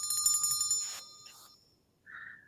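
A short electronic bell-style notification chime rings out clearly with a few bright repeated tones, then a softer trailing ding follows after a brief gap.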